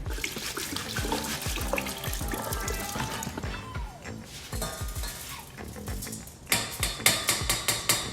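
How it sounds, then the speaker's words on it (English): Lentils being rinsed in a sieve under a running kitchen tap, water splashing and rattling steadily, with sharper tapping knocks toward the end. "So we're going to put this lentil in the sieve right here, and we're going to rinse it."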